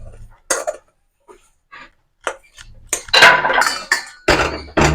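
A cooking pot of semolina is lifted off a stove and set down, producing several close metallic clanks and scrapes in short bursts between quiet gaps.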